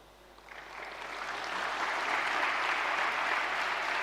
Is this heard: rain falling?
no